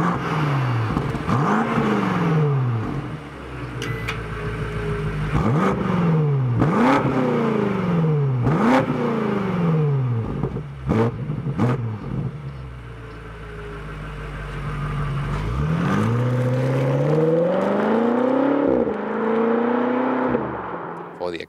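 A BMW X6 M Competition's 4.4-litre V8 exhaust barks through a series of sharp throttle blips, then a longer rising rev, loud and close, with the engine settling between each burst.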